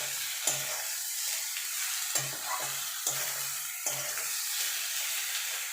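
Small morola fish gently mixed into frying potato, aubergine and tomato in a wok, giving four quiet clusters of spatula scrapes and soft stirring over a low steady sizzle, with no talking.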